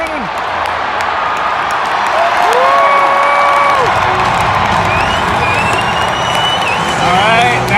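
A packed baseball crowd at T-Mobile Park roars and cheers for the Mariners in the bottom of the ninth, a sustained loud swell with scattered whistles and shouts throughout.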